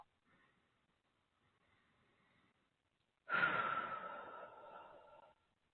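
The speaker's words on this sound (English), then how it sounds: "Let's breathe in and out together now." During a guided meditation, a soft, faint breath is followed by one long, audible exhale that starts strong and slowly fades, alone in near silence.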